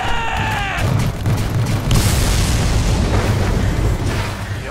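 Cannon bombardment in the video game Attack on Titan 2, with heavy booming blasts rolling into a dense, continuous roar of explosions after a brief tonal opening.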